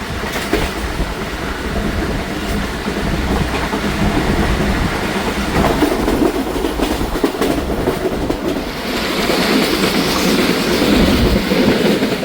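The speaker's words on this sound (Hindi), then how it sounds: "थ्रू पास हो रही है ट्रेन।" A non-stop Musa Pak Express train rumbles through a station at night without stopping, continuous rattling wheels and clatter, loud and close, growing brighter and harsher toward the end.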